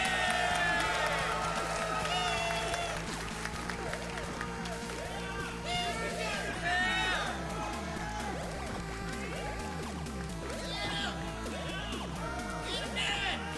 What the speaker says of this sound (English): Everybody clap and be loud.